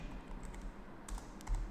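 Rapid keystrokes on a computer keyboard under steady background hum, irregular clicks clustering in short bursts toward the end, close and moderately loud with no voices.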